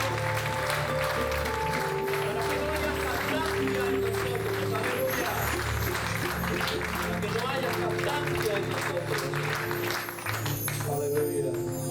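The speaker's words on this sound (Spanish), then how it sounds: "Dame un aplauso al Señor." A church congregation claps in praise during a Spanish-language service, sustained applause mixed with voices and a low musical hum throughout.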